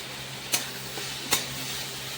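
Onion, green chilli and bay leaf tempering sizzles in hot oil in a pan for cooking moong, a steady close hiss broken by two sharp clicks of a utensil.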